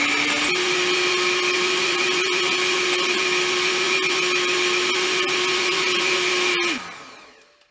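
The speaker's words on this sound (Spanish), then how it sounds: "vamos a batir otra vez con la batidora" An electric mixer beating eggs and sugar whirs at a steady, loud pitch for several seconds, then winds down and stops.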